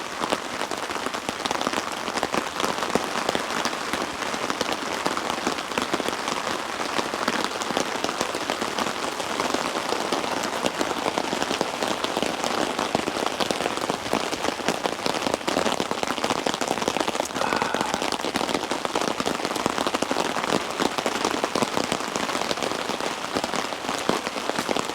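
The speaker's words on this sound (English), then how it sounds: "We generally don't get heavy rain like this." Heavy rain from an atmospheric river storm pours on a campsite, a dense, loud, continuous hiss of drops drumming on surfaces throughout with no pauses and no voices.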